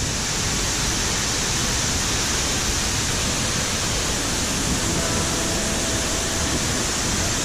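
A river runs fast and strong after rain during an expedition, its dense, even roar filling every moment at close range without a break, and no voices come through.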